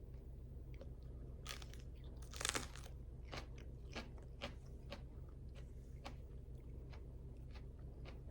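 A shishito pepper is bitten and chewed up close, with one loud crisp crunch followed by a run of softer, evenly spaced wet crunches as it is eaten alone without talk.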